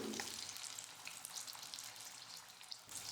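Battered chili bajji deep-fry in hot oil, a soft, even bubbling sizzle with tiny crackles, faint and continuous with no voices.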